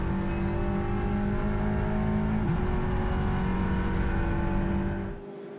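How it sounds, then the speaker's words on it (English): A turbocharged four-cylinder race car, among GT4 and TCR cars in a sprint race at Canadian Tire Motorsport Park, holds a loud, steady high-revving drone down the straightaway, sustaining for about five seconds before fading away. "It sounds healthy for a 4-cylinder turbocharged engine."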